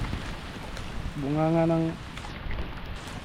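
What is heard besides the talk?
heavy rain during a thunderstorm while fishing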